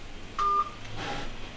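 A single telephone dialing tone, clear and loud, rises over a quiet room hum at a local council meeting in Scorteni, Romania, sounding briefly once.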